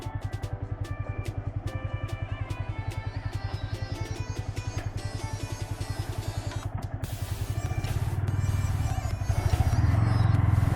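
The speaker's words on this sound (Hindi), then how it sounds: "ये है मेरा भैया का बाइक।" A motorcycle idles with a steady, fast-ticking engine pulse close by, then its rumble swells and grows louder toward the end as it revs and pulls away; no speech.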